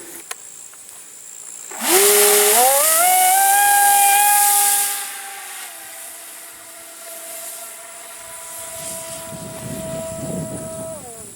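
A foamboard RC speed plane, built for over 100 mph, flies past with a loud rising whine of its motor and prop that swells sharply, holds, then fades into a steady distant drone.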